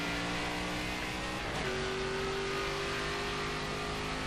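A race car engine in the PC video game NASCAR 25 drones steadily and loud, its pitch climbing as it revs, with no talking.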